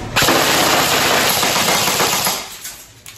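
An airsoft machine gun fed from an M4 AEG magazine fires in full auto: a loud, dense rapid rattle of shots from close by for about two seconds, with the motor whirring down and faint clicks after the burst ends.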